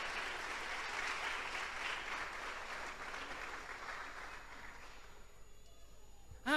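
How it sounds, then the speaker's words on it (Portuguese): Applause from a church congregation, a soft, distant wash of clapping that fades away toward the end. "Dê uma salva de palmas para Deus, para esse entendimento."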